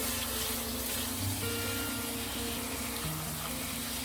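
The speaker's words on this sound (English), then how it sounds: "I'm just gonna water this in and make sure that it's good and moist" Water pours steadily from a hose or can onto a worm compost bin set in an in-ground garden bed, a continuous splashing, gurgling stream at close range with no talking.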